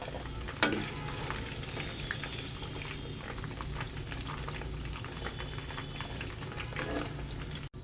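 Paneer fries in hot oil in a kadhai, giving a loud, continuous bubbling sizzle with dense crackle throughout and one sharper clink near the start; no one speaks.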